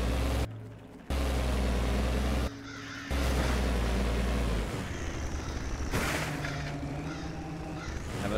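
Crows caw loudly in the Hellsplit Arena VR video game, several harsh calls in separate bursts over a dense noisy backdrop, near and prominent with no talk.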